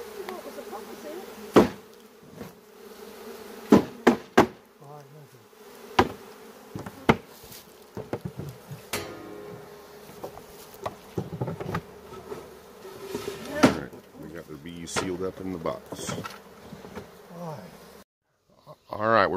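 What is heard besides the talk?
bees buzzing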